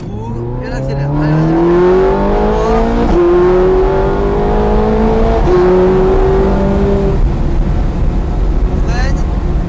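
A Ferrari F430 Scuderia on track, heard from inside, accelerates hard through rising gears, the engine note climbing and shifting several times under steady loud roar, with a voice talking over it.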